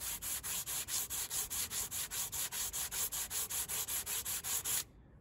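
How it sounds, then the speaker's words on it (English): Sandpaper on a 16-inch radius block rubbed over an electric guitar fretboard with glued inlay, in about twenty steady back-and-forth strokes, each a close, hissing scrape, before stopping abruptly. "Now I have this 16-inch radius block with some sandpaper, very simply."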